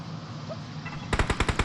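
Rapid automatic gunfire breaks out in a battle royale video game, a close, loud burst of about six evenly spaced shots after a quieter stretch of game ambience.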